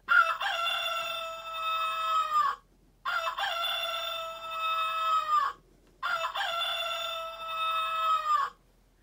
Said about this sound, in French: Aussitôt, un coq chante.